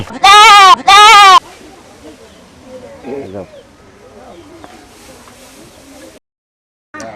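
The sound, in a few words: goat bleating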